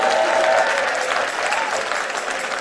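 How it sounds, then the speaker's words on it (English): A church congregation claps together in a sustained, dense burst of applause offered to the Lord during a service, steady and fairly loud throughout, with a faint voice briefly audible early on. "Give the Lord a clap offering."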